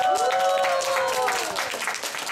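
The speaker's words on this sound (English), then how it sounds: "can we give Olivia a round of applause?" An audience bursts into applause at a gathering, a dense, steady wash of clapping that fades slightly toward the end while a voice speaks over it.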